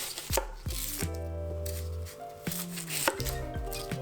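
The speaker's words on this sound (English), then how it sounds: "So I'm gonna slice the onion first." Knife slicing through an onion on a cutting board for a meatball sauce, a series of crisp, close chops landing at an uneven rhythm, with a few knocks against the board in between.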